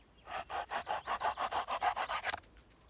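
A folding saw cuts through a thumb-thick piece of dried wax myrtle in about a dozen quick, even back-and-forth strokes, close and crisp, then stops abruptly.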